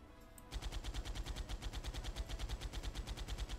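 Manual turret firing in the video game ARK Survival Evolved: a continuous, rapid stream of evenly spaced heavy shots, loud and relentless, starting abruptly after a brief moment of rumbling background.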